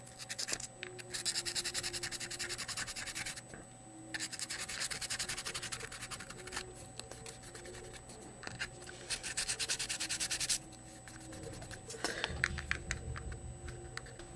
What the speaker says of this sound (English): You should have sanded all the way around and tried to sand off any imperfections.